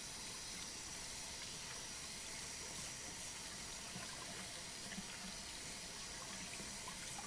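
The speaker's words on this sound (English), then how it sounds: "you rinse under the warm water" Warm tap water runs steadily into a sink while hands are rinsed. A soft, continuous splashing hiss stays even throughout, fairly quiet and close, with no talking.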